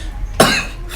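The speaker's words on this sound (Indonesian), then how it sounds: "Batuk." A single short, sharp cough from a person indoors, close and fairly loud, with quiet room tone before and after.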